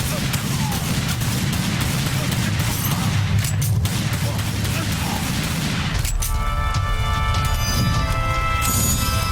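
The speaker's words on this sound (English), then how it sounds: "You want to shoot the dynamite and grenades right back at the enemies" Gunfire and exploding dynamite and grenades in the Tomb Raider arcade gun game fill a dense, loud, continuous barrage of shots and blasts, with game voices mixed in.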